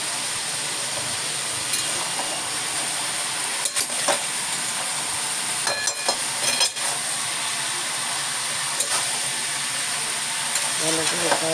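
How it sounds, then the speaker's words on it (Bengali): Potatoes frying in a pan, a steady bright sizzle running throughout with occasional scrapes and clinks of stirring against the pan, while someone talks over it. "আলুটা ভাজার সময়"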